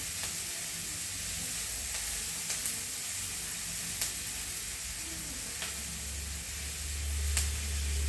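Red amaranth greens (pokla bhaji) sauté in a pan with a low steady sizzle and occasional light stirring taps, close and fairly quiet, with a low hum creeping in near the end and no speech.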